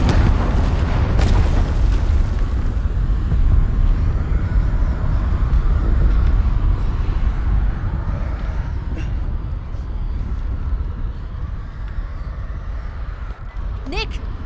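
Mounds of explosives detonate and go up in flames in the horror video game House of Ashes: loud, deep rumbling booms with a sharp bang early on, a sustained roaring burn throughout and another crack near the end.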